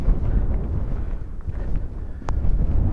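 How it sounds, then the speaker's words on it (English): Breezy wind on an open moorland hillside on Kinder Scout, a steady low rumbling buffet against the microphone with gusts rising and falling, close and fairly loud, with no talk. "The weather's still okay, a bit breezy, but fine at the moment."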